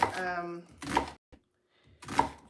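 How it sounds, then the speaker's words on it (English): A kitchen knife chops an onion on a cutting board while plant-based comfort food is prepared, giving two sharp, separate chops spaced about a second apart; a person talks briefly before the first cut. "so I'm gonna cut up this onion in a very bad way"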